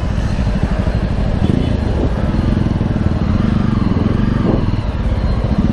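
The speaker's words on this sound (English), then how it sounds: "The exhaust sound nice. It has that bassy effect." A Jawa 42 motorcycle idles and revs nearby with a deep, bassy exhaust rumble, steady and loud throughout.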